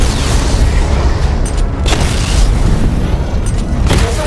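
Constant heavy weapon fire and booming impacts in a Batman video game as targets are destroyed, loud and dense throughout with repeated explosive bursts layered over a deep rumble.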